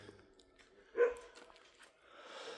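A single dog barks once at a distance, faint against quiet outdoor air near villas along the Lycian Way hiking trail between Çavdır, Üzümlü and İslamlar.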